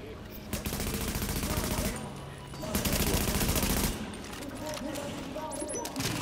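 Rapid gunfire in The Division video game, bursts of automatic shots crackling loudly in two dense stretches with quieter shooting between, while players talk over it.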